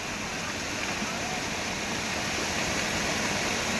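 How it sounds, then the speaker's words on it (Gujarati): A small waterfall on a Dang road trip near Saputara rushes in a constant, broadband roar, steady and close, with no breaks across the few seconds. "અને આ ધોધ છે નાનો એવો."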